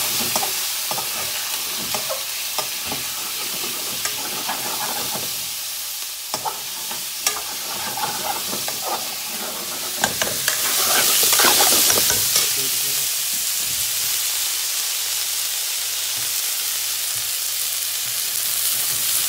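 Fresh beef stir-frying in olive oil, giving a steady, loud sizzle that runs the whole way through, broken by scraping and clattering stirs in the pan. No one speaks.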